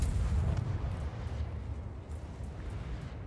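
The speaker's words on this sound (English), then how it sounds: "You can see just the shells flying out." A deep booming salvo from the USS Alaska cruiser's guns in a naval video game, one loud low blast at the start rolling off into a long rumbling decay.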